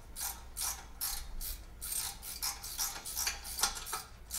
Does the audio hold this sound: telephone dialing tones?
no